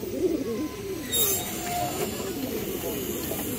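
Male pigeons cooing nearby in low, rolling throaty calls that repeat across the stretch, with a faint hiss in the background.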